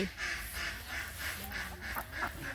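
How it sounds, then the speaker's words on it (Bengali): Ducks quack near a mustard field in a rhythmic series of short nasal calls, about eight in quick succession at moderate distance over outdoor background. "এই যে হাঁস করছে সে।"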